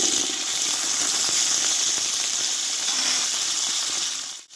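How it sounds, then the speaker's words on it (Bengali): Cut potatoes hiss and sizzle in hot white oil in a wok, a steady, bright frying crackle that stays close and loud before cutting off abruptly at the end. "বড় সাইজের দুটো আলু কেটে নিয়েছি ধুয়ে এবার আমি তেলে দিয়ে দেব"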